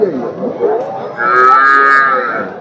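A Holstein Friesian cross cow lows loudly at a cattle market in Punganur, Andhra Pradesh, a long sustained moo after a softer, rumbling start, close and clear with no talk.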